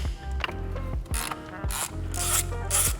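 A ratchet works TX30 bolts loose on a Volkswagen Mk8 Golf R water pump, giving steady rapid clicking with bursts of harsher rasping strokes, close and loud with no talking.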